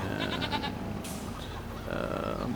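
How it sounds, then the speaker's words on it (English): Goats bleating in the farm video game Farming Simulator 25, a few calls close by over a steady low engine rumble of a farm vehicle, with no talking. "Pulling into our goats here"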